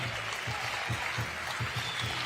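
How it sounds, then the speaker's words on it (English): Arena crowd applause at a FIBA 3x3 Women's Series finals stop in Debrecen: soft, continuous clapping from a distance, with faint rhythmic low thumps running underneath. "A big round of applause for Jessica, ladies and gentlemen."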